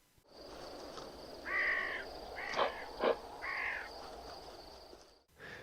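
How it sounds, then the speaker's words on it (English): A crow caws several times at a distance, harsh and hoarse, over a steady low rumble of background noise. "And there's an ominous bird call here."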